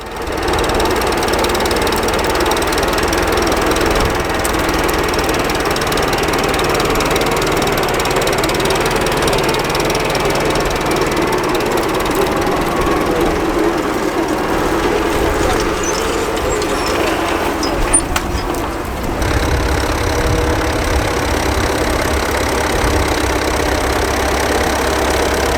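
An old tractor engine at a ploughing match running loud and steady with a mechanical rattling knock, close by for the whole stretch, its tone shifting slightly near the end.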